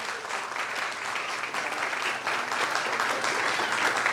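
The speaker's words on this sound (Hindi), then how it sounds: "जोरदार तालियां।" Loud, sustained applause from a crowd at a children's prize distribution on Resurrection Day, dense clapping that grows slightly stronger toward the end.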